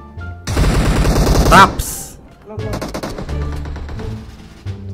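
Rapid automatic gunfire in the battle-royale game PUBG Mobile, a loud dense burst of shots followed after a short pause by a longer, quieter rattling string of fire, with talk over parts of it.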